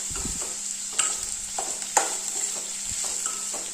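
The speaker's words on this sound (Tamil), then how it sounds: "நல்லா லைட் ப்ரௌன் கலர் வர வரைக்கும் நம்ம வெங்காயம் வதக்கிக்கலாம்." Onions sautéing in oil in a pan for tomato thokku, a steady hiss of frying under repeated spatula knocks and scrapes against the pan, close and without speech.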